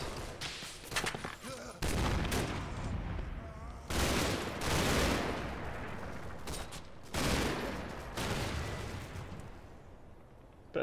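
Bursts of gunfire and explosions roar through a Combat Mission video game battle in several loud, dense volleys separated by brief lulls, with no voices over them.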